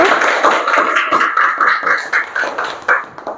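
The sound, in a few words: classroom applause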